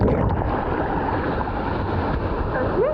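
A small waterfall at Fairy Falls near Cairns, in a forest, pours as a steady, close rush of broadband water noise with no clear voices.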